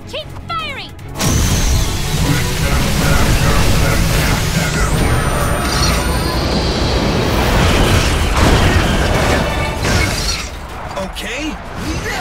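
Weapons fire and explosions in an animated Tobot robot battle on a runway, a loud, continuous roaring barrage of blasts and booms with mechanical whines, lasting most of the clip, briefly framed by shouting voices.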